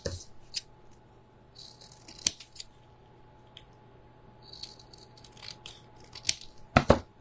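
Scissors snip around a paper Memorydex card in short, scattered cuts, quiet and close, with gaps of near silence between bursts.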